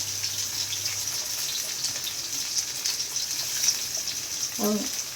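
Onion added to hot oil in a pan for potato bhaji, giving a steady soft sizzle and hiss throughout, close and moderate, with a few faint clinks and stirring sounds.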